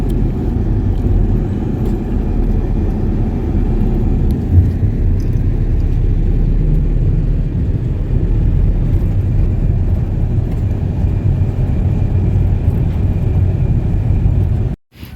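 A car drives at night through heavy rain, giving a steady, close, low rumble with a dense wash of noise that continues unbroken and without voices until it cuts off at the very end.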